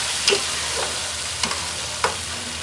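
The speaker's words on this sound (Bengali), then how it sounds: "তো ঠিক আছে পেঁয়াজ বেরেস্তাটা করা হোক" Onions fry in a pan for crispy berista, a steady close sizzle with a few sharp clicks of stirring scattered through it.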